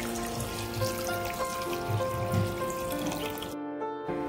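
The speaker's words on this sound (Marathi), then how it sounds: "आता यामध्ये आपल्याला गरम पाणी घालायचं" Hot water is poured into chicken curry in a pan as a steady splashing trickle that stops abruptly near the end.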